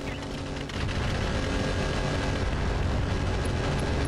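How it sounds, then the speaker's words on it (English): A mech's ammunition cooks off in a modded Battletech (Roguetech) clan battle, a dense, loud rumbling blast that swells after a brief lead-in and then keeps roaring with crackling debris, no talk over it. "That was a big ammo explosion there."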